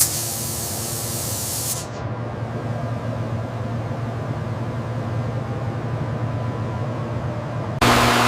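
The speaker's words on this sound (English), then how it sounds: "The iconic Caterpillar Highway Yellow base coat is applied in overlapping passes" Spray gun laying Caterpillar Highway Yellow base coat onto the chassis of a 1964 Caterpillar D9 bulldozer in overlapping passes: a steady, close, loud hiss that cuts out briefly near the start and surges back at the end.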